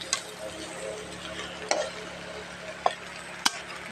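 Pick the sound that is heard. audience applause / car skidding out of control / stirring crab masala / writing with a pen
stirring crab masala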